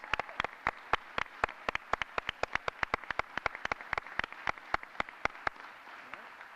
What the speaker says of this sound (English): Ladies and gentlemen, a warm round of applause.